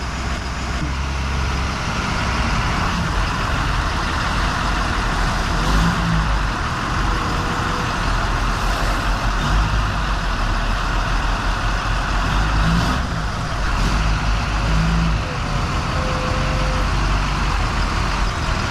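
An International TerraStar salt truck drives out on snowy roads, its medium engine droning steadily and loud throughout with low rumble and some revving, heard from inside the cab with no talk.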